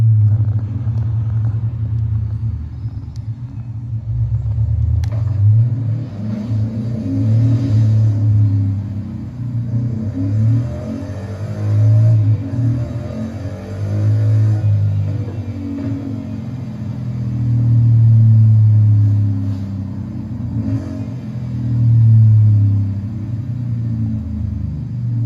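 Deep bass from a Hisense AX5100Q home theatre sound system playing a first-person game, with heavy rumbling low-end booms and thuds that rise and fall over a sustained throb, loud and close, with no voices.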